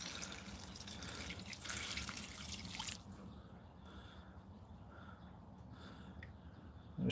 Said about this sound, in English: we'll add some more water by rinsing out these